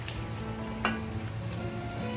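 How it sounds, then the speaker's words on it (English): Mushrooms sizzle softly in butter with onions in a pan, a faint steady crackle with one brief louder pop partway through. "I am going to add our mushrooms to the onions and the butter"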